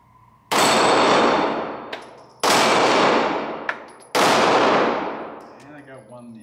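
Three loud CZ 75 9mm pistol shots, each ringing into a long metallic decay from steel flappy pedal targets, spaced about two seconds apart, with faint clangs of steel hits between them.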